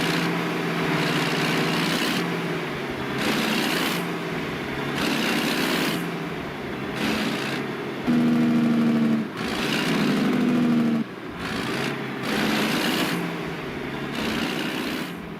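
A Kenworth W900 truck with a Cummins ISX 600 engine revs and shifts in a driving game, loud engine pulls broken by repeated gear-change gaps and steady drone.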